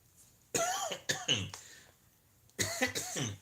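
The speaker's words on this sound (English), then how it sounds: "Still can't get over that cough." A person coughs and clears their throat in two rough, harsh bursts separated by a short quiet gap, close and fairly loud, with no speech.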